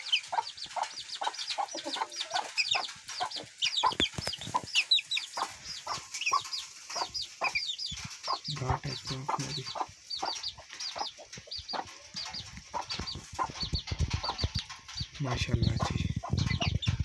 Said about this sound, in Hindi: मुर्गी ये बैठी हुई है जी, जिसके नीचे मैंने 7 अंडे रखे हुए हैं